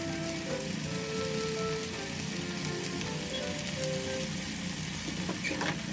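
Garlic sizzling gently in oil in a tilted pan over low heat, a continuous soft crackle and hiss at moderate distance, quiet and even throughout with no voices.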